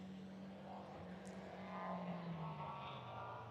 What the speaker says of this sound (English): It sounds like cars are starting to take off.